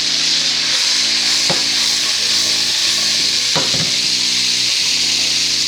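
Italian sausages fry in a pan on a stovetop burner with a steady, fairly loud sizzle throughout, broken by a few brief scraping or turning knocks.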